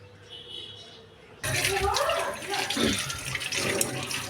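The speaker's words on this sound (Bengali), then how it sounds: "এইভাবে টমেটোগুলো ভালো করে ধুয়ে নিয়ে তারপর এই টমেটোগুলোকে ভালো করে মুছে নিব।" Tomatoes being washed in water in a home kitchen, splashing and swishing sounds that start abruptly and continue with irregular sloshes, with a voice talking faintly underneath.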